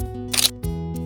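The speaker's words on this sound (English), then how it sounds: "If necessary, adjust shutter speed and take another shot." A camera shutter fires once up close, a sharp mechanical click and clack in a quiet room.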